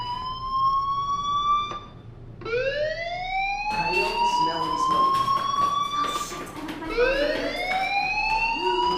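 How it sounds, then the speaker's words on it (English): A fire alarm in the video game Life is Strange wails in repeated rising electronic sweeps, moderately loud and steady, with a brief pause between cycles. "Hey, do you hear that fire alarm?"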